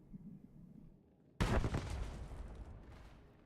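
A single grenade explosion in Star Wars: The Old Republic bursts loudly after a quiet stretch, a sharp blast whose rumbling decay trails off over the next two seconds.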